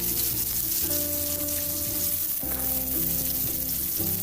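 Two handfuls of sliced small onions and a slit chili sizzling in hot oil with spices for a mutton gravy, a loud steady crackle broken by stirring sounds.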